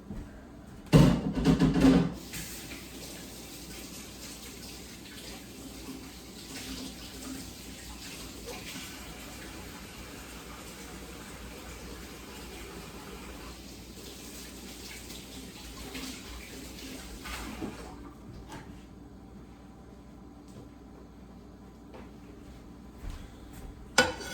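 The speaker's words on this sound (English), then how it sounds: "we're going to take care of that and wash hands real quick" Running tap water splashes as hands are washed in a home kitchen, a loud burst early on settling into a steady, moderate stream that continues for most of the span before cutting off.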